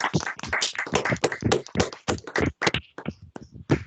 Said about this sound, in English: join me in a round of applause